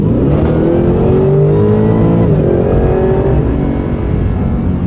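A 2023 Cadillac Escalade V and a 2025 Ford Raptor R, both supercharged trucks, accelerating hard: a loud, close, sustained engine roar with rising revs, a brief dip around a gear change midway, then continuing to climb.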